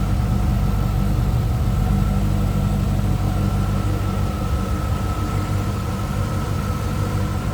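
1994 Chevrolet Corvette convertible's 5.7 liter V8 idling steadily, a smooth continuous low engine drone heard close and unbroken, with no talking.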